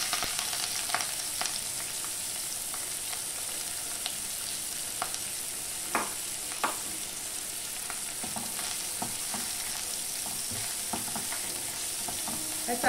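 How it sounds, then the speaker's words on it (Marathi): Chopped onion with turmeric sautés in a pan, a steady soft sizzle and crackle running throughout, with occasional light scraping clicks as it is stirred. "हे चांगल्यापैकी परतून घ्यायचंय।"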